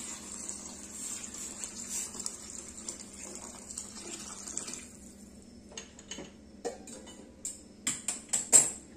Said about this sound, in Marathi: यामध्ये आपण गरम पाणी घालणार आहोत